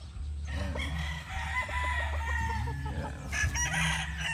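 Boston Millionaire gamefowl roosters crow at a farm, several full cock-a-doodle-doo calls overlapping at moderate distance, with occasional clucks and steady low background hum.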